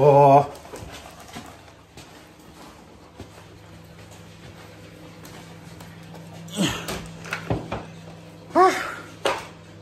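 A dog whimpers and pants, with brief high whines at the start and again near the end over a quiet steady hum, and a person speaks softly in between.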